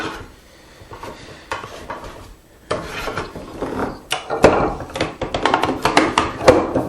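Hand saw strokes rasping through wood held in a vise, cutting a tenon, in a quick, steady back-and-forth rhythm, close up, getting louder and denser toward the end.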